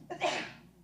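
A single short sneeze bursts out close by in a quiet room, a quick sharp breathy blast fading within a second.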